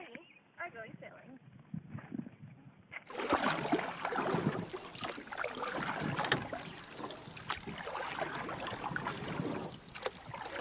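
A sailing boat moves across open water, a continuous wash of water and wind noise rising after a quieter opening with faint voices.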